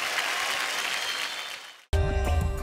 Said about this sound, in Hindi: What a performance, standing ovation